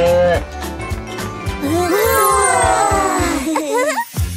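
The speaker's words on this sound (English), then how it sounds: "This is a cow." A cartoon cow lets out a drawn-out moo that rises and wavers, heard after a child-friendly voice speaks, with a bouncy music bed running underneath.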